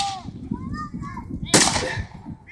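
A single sharp musket or gun blast from a Brunswick battle reenactment at Rufford Abbey rings out loud and close amid continuous crowd murmur and distant voices, with faint whistling tones around it.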